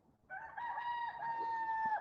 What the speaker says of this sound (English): That rooster is an interloper.